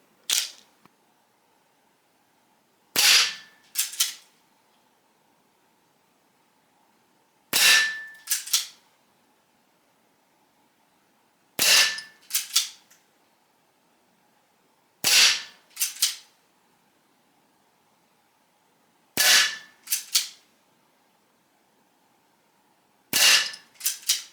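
Seven sharp, loud pops from a Diana Chaser air pistol with a rotary magazine, spaced a few seconds apart, each followed quickly by a metallic click or two, with silence between.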